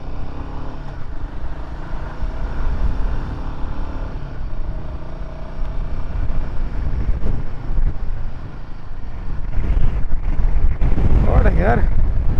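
Strong wind roars and buffets steadily across a Royal Enfield Himalayan ride on a mountain road from Theni to Poombarai near Munnar, a loud, continuous low rumble that swells even stronger toward the end.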